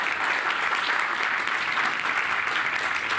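Loud, sustained applause from an audience at a New York City groundbreaking ceremony, a thick continuous wash of clapping hands with no letup throughout.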